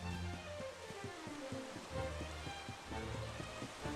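Rain falls in the video game Dragon Quest XI S, a steady soft wash of drops under a background music score, continuous throughout.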